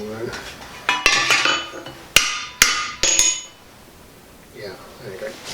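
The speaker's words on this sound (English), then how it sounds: "I have rather a nice panel beating hammer." A panel beating hammer strikes a Land Rover Series 3 body panel during restoration, several sharp metallic blows ringing out in an irregular burst, close and loud, followed by a quieter pause.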